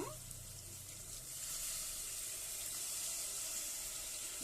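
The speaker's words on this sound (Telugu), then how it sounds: "మనం చింతపండు పులుసు పోసేసుకుందాం." Tamarind juice poured into a hot pan of drumstick dal rasam gives a quiet, continuous liquid rush mixed with soft sizzling, steady for several seconds.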